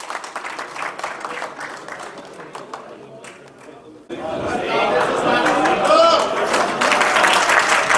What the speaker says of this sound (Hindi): तालियों की गूंज में इस्तकबाल करें जनाब इकबाल अशर साहब का